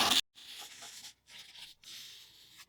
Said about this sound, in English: Now what I want you to do is cut along the straight line that you drew originally